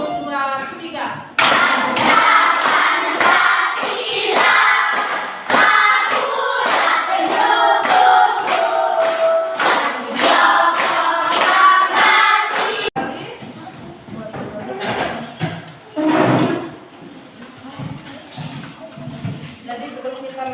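A classroom of students sings a patriotic song together while clapping their hands in a steady, even beat for several seconds. The singing and clapping stop, then a teacher speaks.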